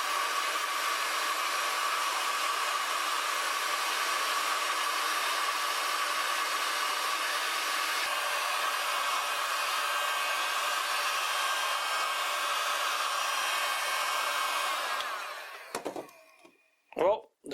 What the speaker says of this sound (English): Now I'm going to use the hot air gun to strip some paint.